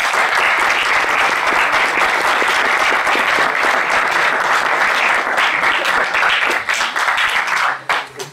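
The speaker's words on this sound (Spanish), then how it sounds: "despidamos a ellos con un aplauso" Sustained audience applause at a university optics research lecture, dense steady clapping from a sizable crowd lasting about eight seconds before thinning out and tapering away at the end.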